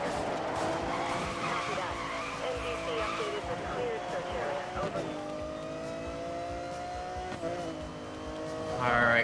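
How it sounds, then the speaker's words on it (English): A Lamborghini Aventador V12 engine in the racing game Need for Speed Most Wanted howls through rising and falling revs with tire squeal and skidding, while a voice talks over it. "I love the sound of the V12 Aventador though."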